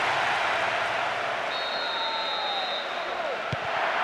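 A stadium crowd in PES 2009 roars in a steady, dense wall of cheering after a goal, loud and continuous across the whole stretch, with a short whistle-like tone rising partway through.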